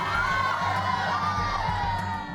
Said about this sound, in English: Meanwhile, Le Soléal has drawn a crowd of local fans.